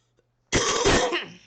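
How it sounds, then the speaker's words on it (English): A single harsh cough erupts after a moment of silence, close and loud, trailing off into a rough throat-clearing rasp. "I'm sorry for coughing."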